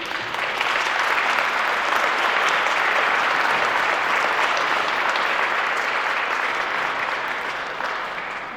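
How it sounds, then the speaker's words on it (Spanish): An audience at a lecture on a historic church breaks into loud, sustained applause, dense clapping holding steady for several seconds before beginning to fade. "la recibimos con un fuerte aplauso"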